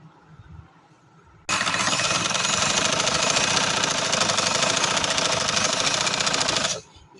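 A sewing machine stitches a designer suit in one loud, continuous run of fast mechanical chatter lasting about five seconds. Quiet room sound comes before and after.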